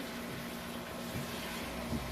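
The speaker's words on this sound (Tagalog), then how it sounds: "Lagyan natin ng tubig ang ating suman." Steady rush of water pouring into a pot for steaming banana suman, a continuous even gush with a slight hollow tone throughout.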